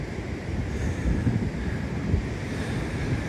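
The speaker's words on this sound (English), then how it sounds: "the waves are that big they come smashing into the headland" Ocean surf rolling against a rocky headland where the Cribber wave breaks, a continuous loud roar of churning water mixed with heavy wind buffeting the microphone, no talking.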